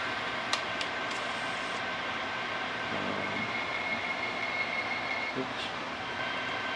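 A Kato N scale model railway turntable rotates with a faint, steady mechanical hum and light clicks, heard up close with a brief spoken word.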